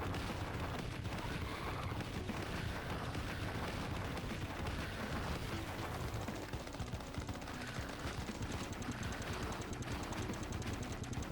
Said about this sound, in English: So this is a grenade launcher.